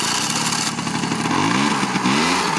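A 1986 Honda Spree scooter, revived after 25 years sitting outdoors, pulls away with its small engine revving up, a steady close buzz rising in pitch as it accelerates.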